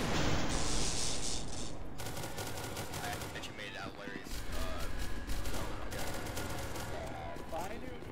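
Automatic gunfire rattles in rapid bursts in a video game, loud at the start and then continuing in shorter volleys, with game sound effects mixed in.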